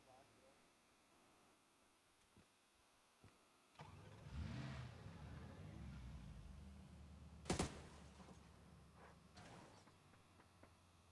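Dacia car engine in the PUBG battle royale game, a mid-pitched engine rising in from about four seconds and running steadily, with a sharp clunk near the middle and faint game sounds around it.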